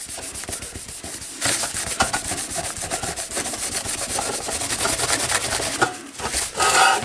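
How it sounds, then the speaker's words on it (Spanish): A cloth dampened with 96-degree alcohol wiped over ink marks on a homemade ATX power supply part, a close, continuous scrubbing rub with rapid back-and-forth strokes, steady and fairly loud, with a brief pause near the end and no voices. "quitamos las marcas que hemos hecho con un paño humedecido en alcohol de 96 grados"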